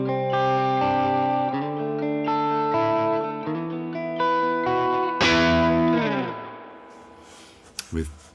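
Electric guitar played clean through an AmpliTube Fender amp simulation with spring reverb, Princeton-style, ringing chords and single notes that sustain and decay in a reverb tail, loud and close, fading to near silence with a brief click near the end.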